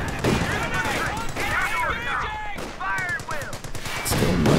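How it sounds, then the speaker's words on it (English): Rapid bursts of gunfire and shot from a Greyhound armored car firing canister shot in the Company of Heroes 2 video game, dense overlapping volleys and whistling ricochets amid battle noise, with a commentator talking over it. "the Greyhound does have access to that lovely canister shot"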